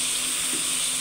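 Mixed vegetables sizzle and fry steadily in a pan while being stirred, a continuous close hiss with a faint scrape midway and no talking.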